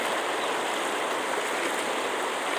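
Floodwater pours steadily over a submerged river embankment near tea gardens in Assam, producing a dense, continuous rushing roar with no pauses, loud and close throughout and with no voices.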